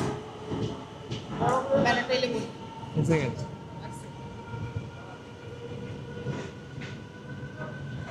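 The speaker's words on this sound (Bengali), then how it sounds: "এই জাস্ট আমাদের ট্রেন ছেড়ে বেরিয়ে যাচ্ছে বর্ধমান স্টেশন" The Howrah–Kalka Netaji Express (12311) pulls out of Bardhaman station with a steady, close rolling rumble and soft wheel clatter, while people talk nearby over the train noise.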